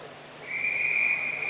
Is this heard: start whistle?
yes